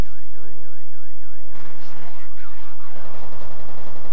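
Oscillating alarm wail in the video game F.E.A.R.: Perseus Mandate, rising and falling in a steady repeating pattern before being swamped by louder game noise and clatter.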